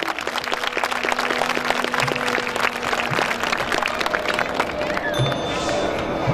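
Sustained audience clapping at a school annual day celebration, a dense, steady crowd applause lasting several seconds with faint murmuring mixed in.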